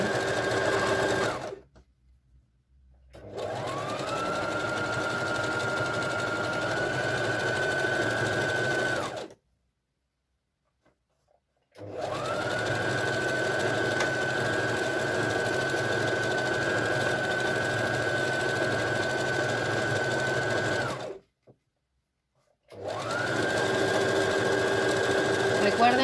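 A sewing machine stitches a fabric bralette in three long, even runs of steady mechanical whirring, close and loud, with short silent pauses between them and someone speaking Spanish at times.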